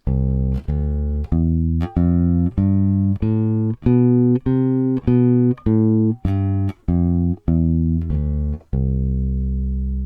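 A bass guitar plays the major scale, about a dozen loud, clean plucked notes in steady succession, each ringing briefly before the next, ending on a sustained final note.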